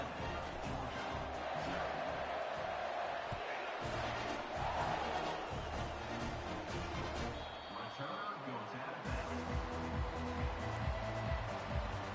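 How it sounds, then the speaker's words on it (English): A large college football stadium crowd at Georgia versus Texas A&M, just after a kickoff early in the game, roars and murmurs continuously in the distance, a broad wash of cheering voices with occasional louder swells. "Listen to the crowd energy here in the early going."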